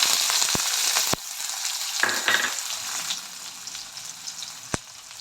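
Onions and fenugreek fry in hot oil for a dried-fish karuvadu thokku. The sizzle is loud and bright at first, then settles lower, with occasional sharp utensil taps against the pan.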